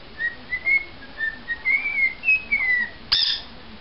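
A pet bird whistles a string of short rising and falling notes at an even pace, clear and fairly close, with one sharp louder chirp near the end.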